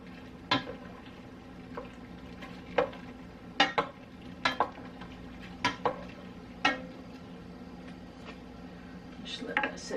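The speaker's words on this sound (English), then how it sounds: "seasoning powder mixed together. Stir this a little bit." Seasoning powder mixture stirred in a pan, with occasional scraping clinks of a utensil against the pan spaced irregularly over a low steady background hum, fairly soft and close.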